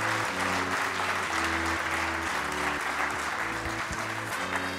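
A conference audience in a French university hall applauds the invited speakers, a continuous wash of many hands clapping at even loudness, with music playing underneath and no talk.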